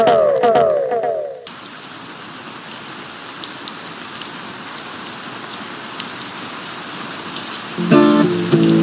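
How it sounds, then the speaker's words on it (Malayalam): Light rain patters steadily on surfaces under an overcast sky, a soft continuous hiss with scattered drops, briefly interrupted by louder music at the start and end. "ഒരു നേരിയ മഴയും ഒരു മൂടിക്കെട്ടിയ അന്തരീക്ഷവും നല്ല തണുത്ത കാറ്റും."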